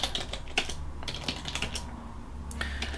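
Close-up clicking of a computer keyboard, quick irregular bursts of keystrokes with short pauses between them.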